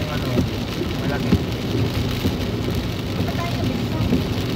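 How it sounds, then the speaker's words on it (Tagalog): Rain falls on a car driving on a slippery road between Nueva Ecija and Metro Manila, a steady dense hiss with scattered drops and road rumble beneath. "Umuulan. Madulas yung daan."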